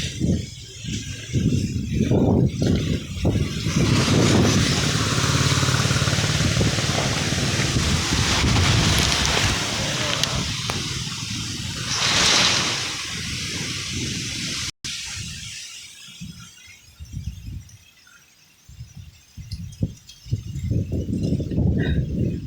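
Strong wind during a rainstorm on a roadside batters the microphone in loud, rushing gusts that ease off partway through and then pick up again.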